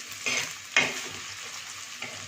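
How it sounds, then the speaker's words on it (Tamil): Onions and two green chilies sautéing in a pan for semiya upma, a steady sizzle with stirring scrapes, one sharp scrape near the middle, close by and with no voices. "வெங்காயம் போட்டு ஒரு வதக்கிட்டு 2 பச்சை மிளகா போடுறேன்"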